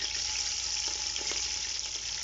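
Ginger and garlic paste hits a hot pan for a dum pukht karela dish, giving a steady, close, loud sizzle throughout with faint stirring scrapes and no talk.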